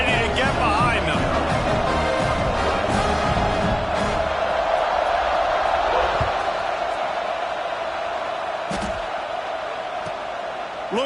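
A college football crowd at a University of Alabama game roars before kickoff, a loud, steady wash of massed cheering that holds for the whole stretch and eases a little near the end, with a broadcast voice faintly underneath.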